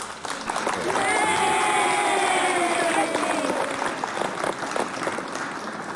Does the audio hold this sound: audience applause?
yes